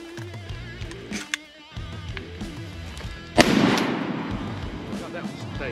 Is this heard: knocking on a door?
no